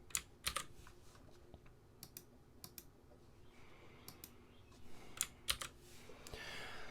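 Keys on a computer keyboard are tapped in irregular bursts of clicks, with sparse pauses between clusters and faint room noise, as someone types code in Visual Studio.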